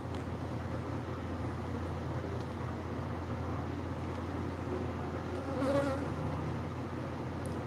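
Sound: Africanized honey bees buzzing

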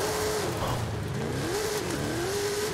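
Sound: Mercedes-AMG 6x6 engine revving while driving

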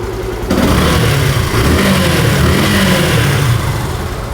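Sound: Yamaha FZS V2 motorcycle engine running

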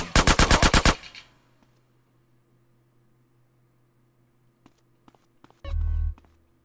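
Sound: gunfire in video game GTA San Andreas Definitive Edition

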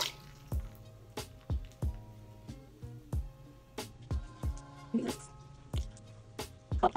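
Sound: water dripping while wetting hands to wash face

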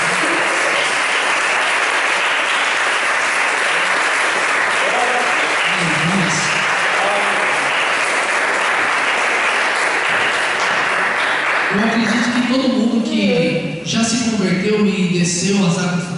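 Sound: congregation applauding

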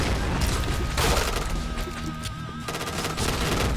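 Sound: rapid gunfire in the video game Point Blank

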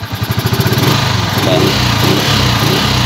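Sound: motorcycle engine revving, reportedly running on water

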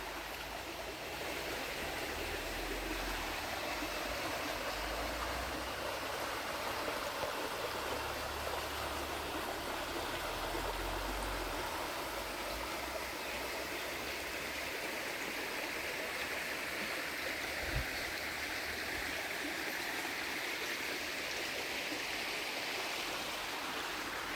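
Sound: flowing stream

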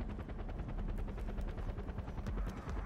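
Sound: helicopter in a video game

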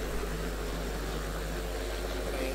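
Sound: roar of speedway motorcycle engines

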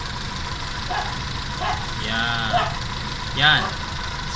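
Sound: Toyota 4K carburetor engine idling

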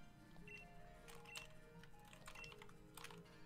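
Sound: computer keyboard keys typing

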